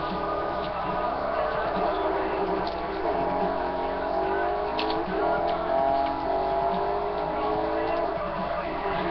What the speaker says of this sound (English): I drifted for you.